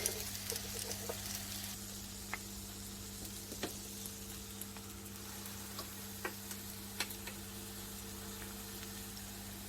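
Chicken kebabs hiss softly on a hot grill pan, a steady low sizzle with occasional faint ticks and pops, quiet and continuous with no voices.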